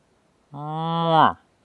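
A man imitates a bull moose call in remote Canadian canoe country, producing a single drawn-out, rising nasal bellow that swells in loudness and stops abruptly, alone against near silence.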